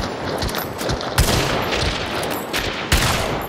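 Rapid gunfire from a video game shooter, dense bursts of shots crackling continuously with a few louder blasts standing out, loud and close throughout.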